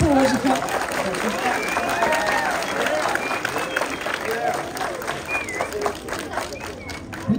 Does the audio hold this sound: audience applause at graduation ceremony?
yes